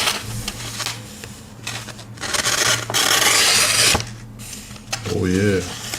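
A Victorinox Swiss Army knife blade is drawn across a sharpening stone in repeated rasping strokes, close and fairly loud, with a brief hum of voice near the end.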